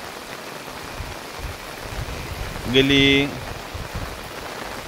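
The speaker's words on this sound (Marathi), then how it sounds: "12 घंटे हा सारखा पाऊस चालू आहे।" Heavy rain falls steadily in a village, a dense even hiss throughout, with a single brief spoken word near the middle.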